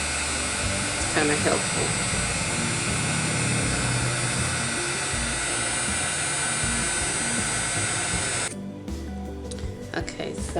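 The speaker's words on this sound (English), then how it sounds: "I like how it curls up when you use the heating tool." Heat embossing tool blowing hot air onto journal paper, a loud steady whooshing blast that runs for about eight seconds and then cuts off, with someone talking over it and after it.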